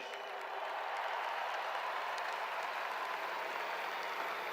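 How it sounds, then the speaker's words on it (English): Steady, dense applause fills a ceremony hall honoring University of Georgia football players and staff, a broad continuous wash of many hands clapping at even loudness throughout, with no voices standing out. "Give them a round of applause, please."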